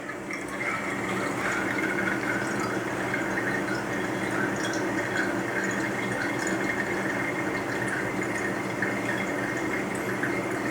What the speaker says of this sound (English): I'm just going to let that drain for a minute